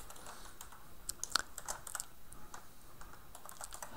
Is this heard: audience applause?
no